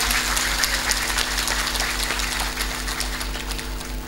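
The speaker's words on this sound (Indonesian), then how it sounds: "Kula suwun tepuk tangan dulu dong buat panitianya." At a religious lecture, an audience claps for the organizers. The applause is moderate and continuous, set over a steady mechanical hum and a pulsing low drone.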